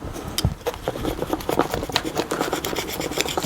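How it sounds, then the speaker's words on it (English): A hand scraper rasps steadily across an old gasket on a MerCruiser marine exhaust manifold, a close, continuous gritty scraping with repeated strokes and no talking. "So I'm just going to scrape off as much as I can of the gasket."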